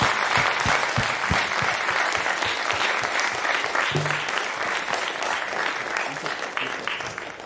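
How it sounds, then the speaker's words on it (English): A lecture audience at a spring speaker series applauds a guest doctor, a sustained crowd of clapping hands that starts strong and slowly thins toward the end, with a few louder nearby claps and a brief voice mid-way. "Can we get another round of applause for Dr. Jeffrey Martin?"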